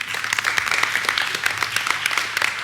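Audience at a school board of education meeting applauding a student speaker, steady moderate clapping from a modest crowd, fairly even throughout.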